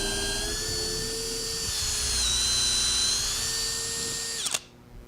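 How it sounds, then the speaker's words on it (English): A dull drill bit boring into wood on a lathe gives a steady, loud, high whine that holds for about four seconds, then cuts off abruptly into near silence. "This drill bit is quite dull."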